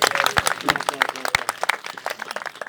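An audience at a Hindi poetry gathering claps in a quick, dense burst of applause that starts loud and thins out over a few seconds, close and lively.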